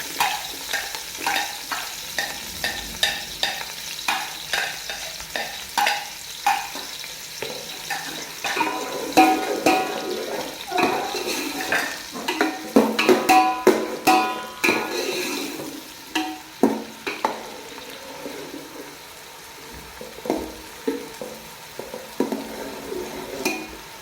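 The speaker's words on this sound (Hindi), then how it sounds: "अब हम इसमें डालेंगे प्याज, जो हमने चॉप करके रखे हुए थे।" Chopped onions frying in oil in a white karahi for chicken karahi, loud sizzling punctuated by repeated rhythmic scrapes and clatters of a spoon stirring against the pan.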